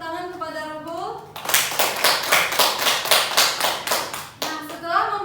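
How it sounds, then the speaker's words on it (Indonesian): Classroom applause for Robo during a chemistry lesson on redox reactions: a burst of rhythmic group clapping lasting about three seconds, with a voice talking before and after it. "beri tepuk tangan kepada Robo"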